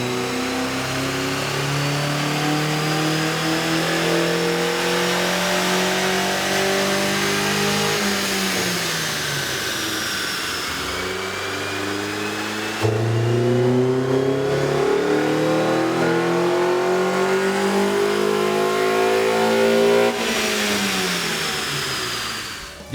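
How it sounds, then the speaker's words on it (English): A 2012–2013 Honda Civic Si with a 2.4L engine and aftermarket air intake revs hard on a dyno, a loud sustained engine note climbing through the gears, dropping off around midway and then pulling up again, with no talking. "we ran the vehicle on the dyno to test the sound comparison versus the stock intake"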